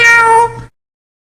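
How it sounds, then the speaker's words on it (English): A single loud, clear cat meow lasting about half a second, close and alone, followed by silence. "Cat."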